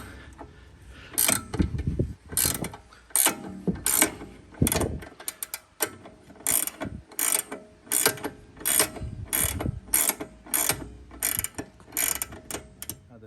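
Ratchet wrench turning a pinch bolt on the front control arm of an Audi B8-platform car, clicking in repeated bursts of rapid pawl ticks, close and fairly loud, with short pauses between strokes.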